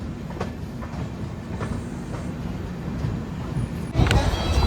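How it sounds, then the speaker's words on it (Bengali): A passenger train rolls into Kishanganj station with steady rumbling and rhythmic clicks of wheels over rail joints, then a louder clatter and squeal toward the end. "এখন আমাদের ট্রেন ঢুকছে কিষানগঞ্জ স্টেশন"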